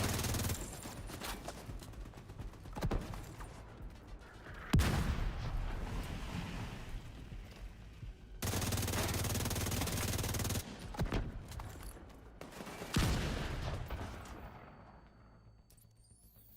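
A minigun in a video game spins up in heavy sustained bursts, with sharp blasts and a long unbroken roar of fire near the middle, set among dense surrounding gunfire and impacts that fade toward the end.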